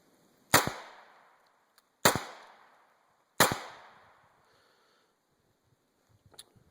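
Beretta Neos U22 .22 pistol fired outdoors in a field, three sharp loud cracks about a second and a half apart, each fading quickly, followed by faint handling noises.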